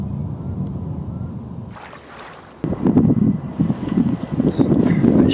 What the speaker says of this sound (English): Wind's coming in lovely now.